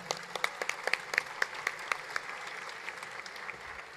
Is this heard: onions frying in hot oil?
no